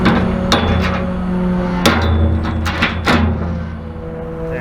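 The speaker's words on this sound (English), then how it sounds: "I'm gonna use the front end loader to pull this one out so we have somewhere to drive in and out of this field" A front end loader pulls a tree out of a hay field edge with a choked chain, with a low engine rumble under a series of loud, close metallic clanks and knocks from the straining chain.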